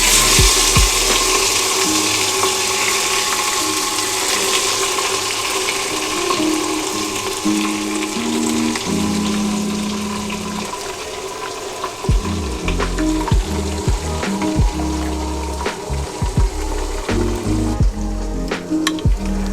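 Marinated chicken pieces dropped into a hot handi and frying, a loud, close, continuous sizzle with occasional stirring scrapes and clatter, no speech.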